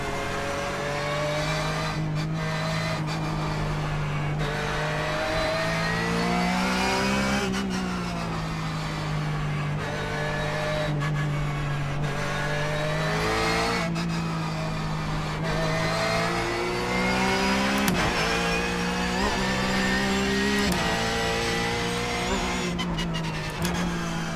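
Porsche GT3 Cup race car engine in the iRacing sim, revving steadily through gear changes and braking, with rising and falling pitch and occasional tire squeal, loud and continuous throughout.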